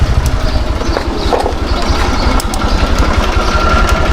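A Facto 150 motorcycle with an engine fault idles loud and close, a rapid steady putter with a rattling, ticking noise on top that keeps going throughout.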